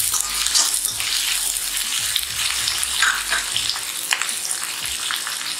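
Onions fry in a pan for a drumstick leaf (murungai keerai) dish, giving a steady close sizzle with scattered crackles and light stirring scrapes, no talking.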